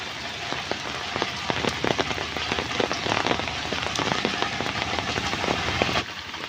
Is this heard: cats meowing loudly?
no